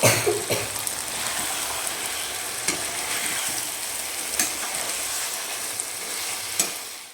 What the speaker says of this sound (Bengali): মাংসটা দিয়ে এখন সুন্দর করে কষিয়ে নেব